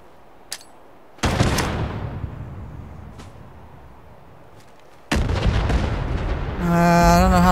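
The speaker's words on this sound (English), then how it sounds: "So let's try the grenade." Grenade blasts in the video game Fallout 76, two loud booming explosions with long rumbling decay, a sharp crack before them and a tonal in-game effect rising at the end.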